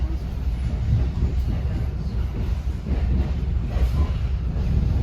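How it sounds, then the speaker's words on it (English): A commuter train rumbles out of Newark Penn Station across the Passaic River, a steady low rolling drone with rhythmic wheel thumps, heard from onboard. "we just left Newark Penn Station, going over the Passaic River"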